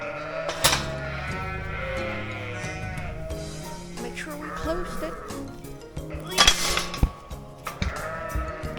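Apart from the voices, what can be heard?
sheep bleating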